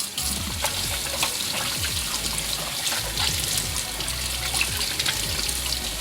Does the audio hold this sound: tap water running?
yes